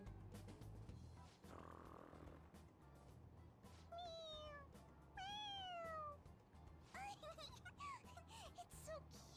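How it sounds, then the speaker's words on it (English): A stuffed toy cat in the Persona 5 Royal video game lets out several short, high, clear meows when its head is pressed, the cries spread across the clip over steady game background sound. "It meows when you press on its head."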